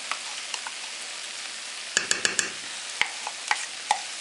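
Soft sizzling of potatoes frying in a pan, with a few sharp scraping clicks of a utensil stirring, no voices.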